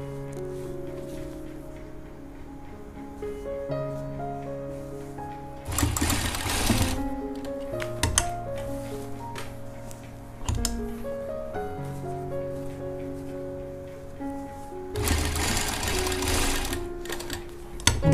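Stitching a koti jacket, a sewing machine hums in two loud, sustained bursts at close range over steady background music with sustained tones.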